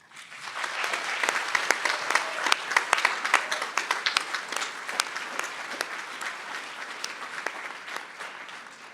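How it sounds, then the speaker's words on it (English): Sustained audience applause for the graduating class at a Kent State Stark commencement, many hands clapping densely with sharper individual claps throughout, swelling early and then easing off gradually. "Let us join in applause for our graduating class."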